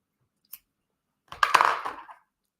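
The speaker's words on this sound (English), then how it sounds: "now I got to find my scissors again. You just cut." Scissors snip through knitting yarn used for an i-cord, a single short cut after a faint tick, heard close up in an otherwise quiet room.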